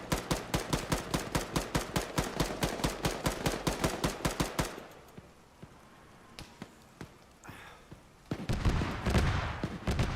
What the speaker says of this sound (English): I was firing tracer rounds, so it woke up the Bradley.